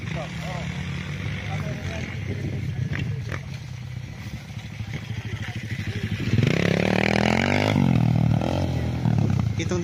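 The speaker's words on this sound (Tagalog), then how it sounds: "Yung nagmumotor na malaking motor." Motocross motorcycles ride in a rural area beside rice fields, their engines droning steadily, then a louder machine passes close by with a rising, revving whine, while a person talks over the noise.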